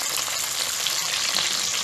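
Galunggong fish frying in hot oil, a dense, steady crackling sizzle that fills the whole short stretch, close and loud with no voices.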